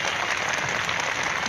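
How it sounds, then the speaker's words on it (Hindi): Steady wash of audience clapping in support of a minister at a gathering in Gorakhpur, dense and even with no pauses, moderately loud throughout. "मैं एक बार जोरदार तालियों से आपका समर्थन चाहता हूं"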